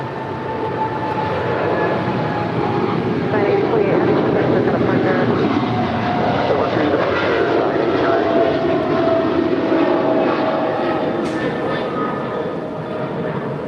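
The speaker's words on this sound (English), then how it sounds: "That is Atlas Air 8028 departing to Seoul. It's a 777 freighter." An Atlas Air Boeing 777 freighter departs LAX for Seoul, its engines a loud, steady jet roar that swells and holds across the whole stretch without letup.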